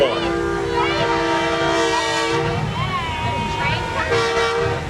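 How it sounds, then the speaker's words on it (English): A train horn blares loudly and steadily during a small-town Independence Day parade, holding several sustained blasts while people talk nearby. "Another train."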